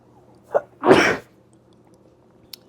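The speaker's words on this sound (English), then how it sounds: "might have to sneeze" A single close sneeze: a short sharp intake followed by a loud burst, then quiet with a faint click.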